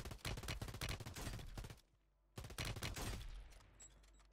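Rapid bursts of gunfire in the Warzone video game, loud and close, broken by a short lull before another dense volley, then fading into quieter scattered sounds.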